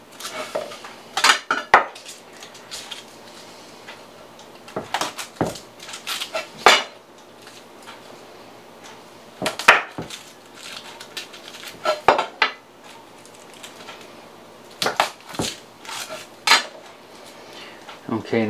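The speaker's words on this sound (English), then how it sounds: "We'll take our garlic, cut our stems off like I usually do." A knife trims the woody stems off garlic cloves while pickling jalapenos, giving sharp, close knocks on a board in short irregular clusters separated by quiet gaps.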